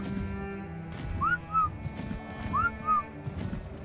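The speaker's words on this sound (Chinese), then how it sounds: "我着急的四处寻找，吹着口哨，试图可以引出小白" Two short, two-note rising-then-falling whistles in the video game ARK: Survival Evolved, calling for a lost pet, repeated about a second apart over a low rumbling game background.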